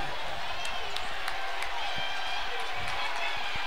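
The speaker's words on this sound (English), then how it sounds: "listen to this crowd" Crowd noise in a gym during a college men's basketball game between Albright and Penn State Berks, a continuous murmur with a few sharp claps or bangs scattered through it and a commentator's voice over the top.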